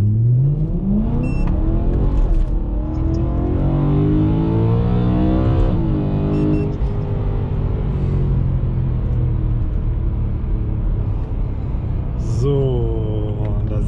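A car engine revs and accelerates hard uphill, climbing through several gear shifts with rising pitch, loud and close throughout.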